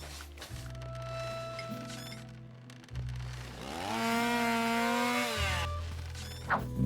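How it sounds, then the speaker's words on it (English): A gasoline chainsaw in a video game revs and runs near and loud, its engine note rising into a strained cutting whine before dropping back to a steady idle, with a short sharp burst at the end. "High-proof alcohol was an excellent fuel substitute for the gasoline chainsaw"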